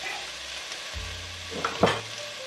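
Chopped onion hits hot olive oil in a pan and sizzles steadily, with a soft stir and a brief clink of a utensil partway through.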